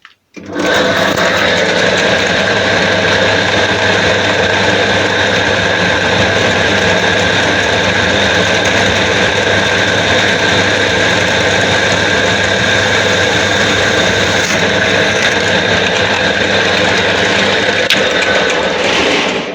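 A homemade drill press bores through galvanized sheet metal with a 5 mm bit, a loud steady motor whine and grinding hum running continuously for nearly twenty seconds, with no talk.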